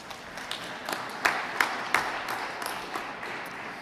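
Audience at a youth spoken-word event giving scattered applause, a soft, roomy patter with a few louder individual claps standing out, fairly even throughout.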